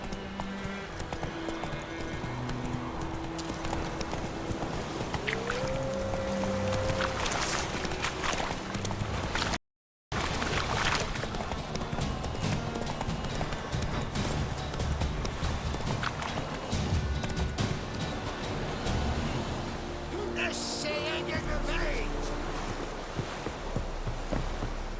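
Roach the horse gallops in The Witcher 3 with a steady, loud clip-clop of hooves that runs through the whole stretch, broken only by a brief gap, over a layer of game ambience.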